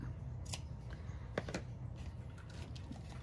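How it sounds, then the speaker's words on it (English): A few quiet snips of scissors trimming material on a Christmas picture frame craft close by, faint and spaced irregularly, with soft rustling in between and no talking. "all you're going to do is take your scissors and just trim it"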